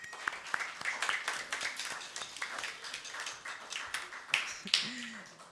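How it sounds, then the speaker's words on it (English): A church congregation at a Seventh-day Adventist sundown worship service breaks into a round of applause, scattered and uneven clapping from a modest crowd that builds and continues for several seconds, with a few voices calling out. "Can I have a round of applause for Katie?"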